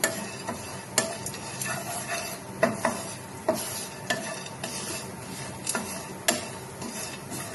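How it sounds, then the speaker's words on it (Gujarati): Cashew and almond pieces roast in a pan, stirred with a utensil that gives irregular light clicks and scrapes over a soft, steady sizzle; no one speaks. "ત્યારબાદ થોડા કાજુ બદામના ટુકડા લઈશું, એને પણ થોડા રોસ્ટ કરી લઈશું"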